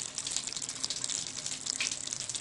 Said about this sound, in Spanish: acá nos podemos dar cuenta que ya el tanque, la vasija como tal está que se llena